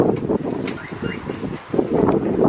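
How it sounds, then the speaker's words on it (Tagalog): Strong autumn wind blows outdoors in Canada, loud gusting rumbles against the microphone that swell and ease, with a brief lull before picking up again. "Lakas ng hangin, oh."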